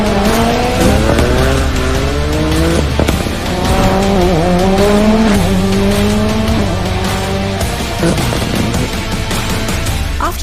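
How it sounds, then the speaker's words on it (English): Rally 4 Ford Fiesta rally car racing hard on a stage at the Indian National Rally Championship in Nashik, engine revving loudly through rising gear pulls and shifts with tire squeal, continuous and close throughout. "But the highlight of this rally had to be the highly anticipated Rally 4 Ford Fiesta"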